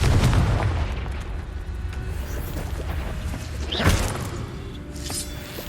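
A Confringo spell blast in the video game Hogwarts Legacy, a booming rumble that fades, then a sharp crack and burst just before the four-second mark over game ambience.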